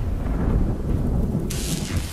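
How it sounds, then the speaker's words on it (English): Thunder from a lightning strike in a South Park video game rumbles loudly and continuously over a brief stretch, a crackling hiss joining near the end, with no talking. "Left click when lightning strikes Butter's hammer"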